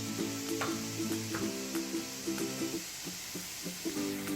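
Chopped cabbage sizzles in a pan of vegan momo dumpling filling, a steady close hiss broken by soft clinks and scrapes of stirring, with no voices.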